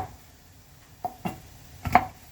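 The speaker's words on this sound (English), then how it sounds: "We're just going to chop this down really quickly" A knife chops ingredients for a pasta bake on a cutting board, a few scattered close thuds against a quiet room, no talking.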